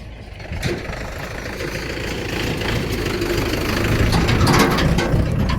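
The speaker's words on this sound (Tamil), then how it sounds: "டிராக்டர் போயிட்டு இருக்குது பாருங்க" A farm tractor drives along a rural road beside agricultural land, its engine a steady low rumble that grows gradually louder as it nears, with no talk.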